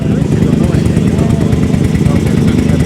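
An Italian motorcycle engine runs with a steady, throaty exhaust rumble, loud and close, while someone talks over it at an Italian motorcycle show day.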